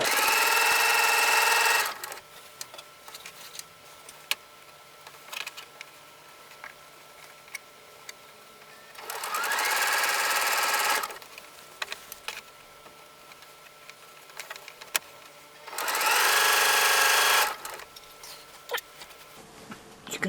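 Domestic sewing machine stitching down a garment waistband, running in three loud bursts of about two seconds each, separated by quieter pauses with faint handling noise.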